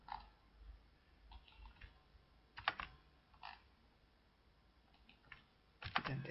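Scattered key presses on a computer keyboard during work in Microsoft Word, faint clicks arriving singly and in short bursts, close by in a quiet room.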